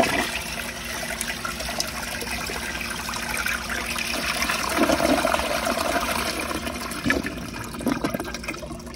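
An American Standard Cadet space-saver toilet flushes close by, a steady rushing and gurgling of water that keeps going for about nine seconds without talk.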